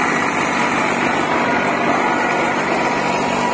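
An Eicher 485 tractor running a rotavator in a field, a steady loud engine drone with a rough churning rumble throughout, close by and alone.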